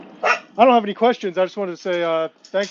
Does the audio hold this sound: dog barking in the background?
yes